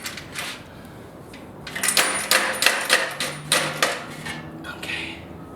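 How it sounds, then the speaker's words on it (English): Metallic clinks and rattles as a slip-on exhaust muffler is wiggled loose from a 2017 Victory Octane motorcycle, irregular bright clatter up close, growing busier midway with a faint high whine in the background. "now we're gonna have to take the top muffler off, so just hold down and start wiggling it"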